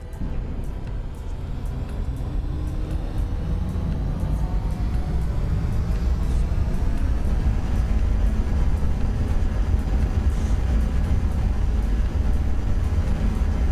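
Spaceship in a space video game moving along near a station, giving a loud, steady low rumble and roar that holds at an even level throughout, with no voices over it.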